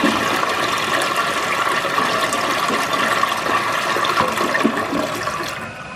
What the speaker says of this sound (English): Let's do a quick flush here so we have a good before.